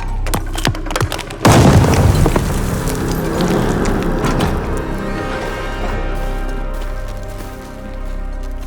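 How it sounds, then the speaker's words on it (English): A grenade explodes in the World War II shooter Call of Duty: Vanguard with a sudden, heavy, close boom. A loud rumbling wash of debris and battle noise follows and lingers, with scattered sharp cracks before the blast. "Grenade! Get down!"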